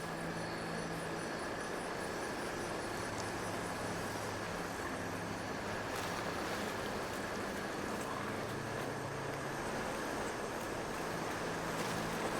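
Rushing waterfall in the video game Avowed, a loud, steady broadband roar of falling water filling the scene continuously with no pauses and no voices.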